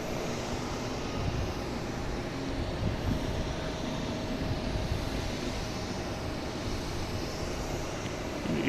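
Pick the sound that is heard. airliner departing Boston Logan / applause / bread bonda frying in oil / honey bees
airliner departing Boston Logan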